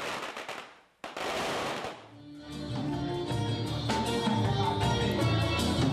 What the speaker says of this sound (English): businessmen in the city hold a fireworks relay.